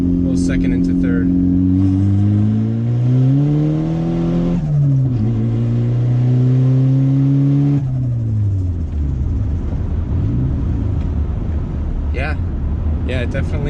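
A turbocharged car with a fabricated wastegate dump pulls hard, engine note climbing loudly before a quick shift from second into third gear, then revs rising again from inside the cabin.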